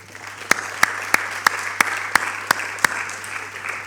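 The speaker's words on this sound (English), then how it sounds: "let's give our MBA postgrad students a big round of applause" An audience at a winter graduation ceremony applauds graduating MBA postgraduate students, with sharp, evenly spaced claps ringing out steadily over a constant low background hum.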